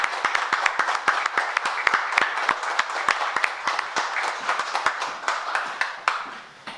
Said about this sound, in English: I would ask that everybody please join me in a big round of applause for our chief and for our sergeant.